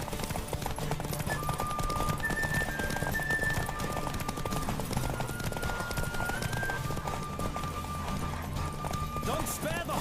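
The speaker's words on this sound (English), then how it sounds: "Don't spare the horse!" Horse galloping in The Witcher video game, a steady rapid clip-clop of hooves running throughout under a rushing music bed, with brief voices and a whinny-like cry near the end.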